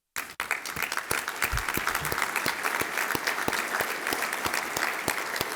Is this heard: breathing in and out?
no